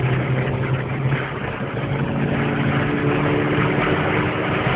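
A car engine accelerates in sport mode, a continuous loud, close drone with a steady low hum and rising road and engine noise. No talk is heard over it.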